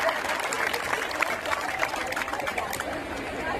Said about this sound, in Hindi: अब आवाज आई आपकी ताली की।